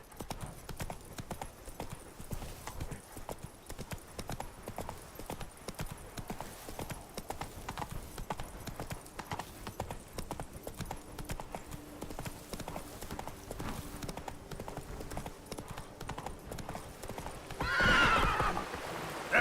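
Hooves of Roach, a horse in a video game, clip-clop in a fast steady galloping rhythm throughout, with a neigh near the end.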